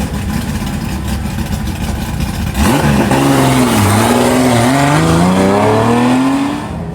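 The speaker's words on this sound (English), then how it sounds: "Tori Sylvester, 1977 Datsun 280Z. Straight 6." A 1977 Datsun 280Z with a straight-six engine launches on an autocross course, revving hard with rising and falling gear sweeps, loud and close after a few seconds of steady background noise.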